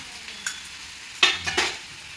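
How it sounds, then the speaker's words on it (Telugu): Malabar spinach is tossed into hot oil in a pan, giving short sizzling bursts and stirring scrapes, a few quick flares of frying noise against a quiet kitchen. "నూనె వేడయ్యాక బచ్చలాకును వేసి వేయించుకుందాం బచ్చలాకును వేగనిద్దాం"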